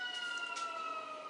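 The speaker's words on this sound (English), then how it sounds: "I apologize for the sirens that live in the town center." Distant emergency sirens in a town centre hold steady tones in the background, faint and continuous, with no other sounds over it.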